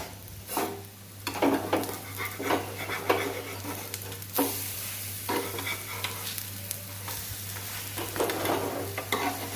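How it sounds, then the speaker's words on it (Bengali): An oats pancake fries in a pan with a steady sizzle, broken by repeated scraping and tapping as a spatula turns and presses it, all close and without talk. "এইভাবে আমি উল্টে পাল্টিয়ে একটু ভেজে নেব।"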